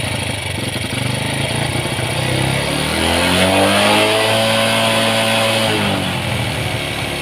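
A Honda Supra X 125 motorcycle with a hard-starting, sputtering engine revs up from idle, its pitch climbing and holding high for several seconds before easing back down, loud and close.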